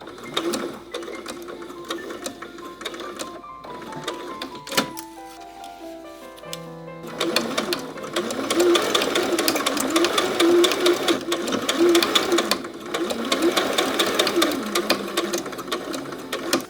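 Sewing machine joining bias binding strips, a loud steady mechanical whir with rapid needle clatter that runs for several seconds, preceded by quieter handling and a brief stop.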